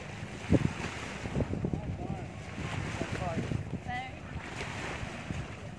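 Stormy sea waves roll and wash along an island beach in rough weather, a continuous broad roar buffeted by wind noise on the microphone, with people talking over it throughout.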